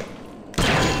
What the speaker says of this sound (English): 4 shots for security camera